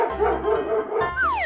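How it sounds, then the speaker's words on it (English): A dog barks a few times close up, short yapping bursts over a steady background, followed by a rising then falling whistle-like tone near the end. "dog"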